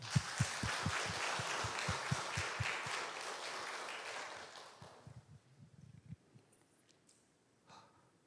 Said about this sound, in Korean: 우리 한동균 목사님께 박수 한번 쳐드리겠습니다